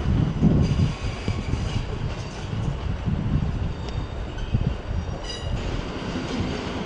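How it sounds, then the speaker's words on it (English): A pair of Class 444 electric trains pulling into London Waterloo station, a steady loud rolling rumble of wheels and carriages with occasional faint high squeals, no talking. "And there's another pair of 444s just arriving in behind it."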